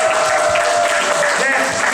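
An audience applauds at a student debate camp exhibition match, a steady dense wash of clapping filling the whole moment with no pauses.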